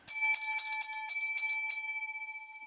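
A rapid series of bright bicycle-style bell rings, seven or so strikes in quick succession with clear ringing tones that fade out at the end, loud and close with no talking.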